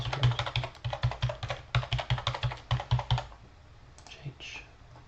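A computer keyboard rattles close up as a new password is typed, a fast, steady run of crisp keystrokes that slows and stops near the end.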